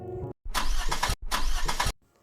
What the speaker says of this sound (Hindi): शाम को काम से लौटते समय मान्या की गाड़ी खराब हो जाती है